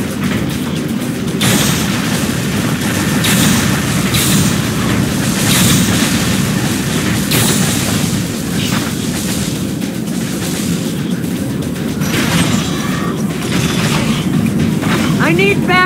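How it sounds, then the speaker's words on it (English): Dense game-battle noise from Unreal Tournament III, with heavy booms and explosions as an enemy Goliath tank is destroyed, continuous and loud with repeated bursts over a constant din of gunfire and engines, and voice callouts mixed in. "Enemy Goliath destroyed."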